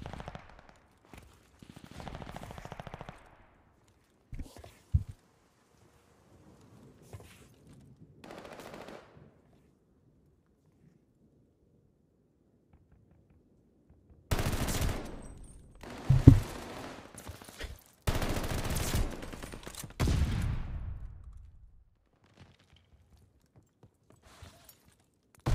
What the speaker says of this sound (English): Morehouse is shooting Wendy's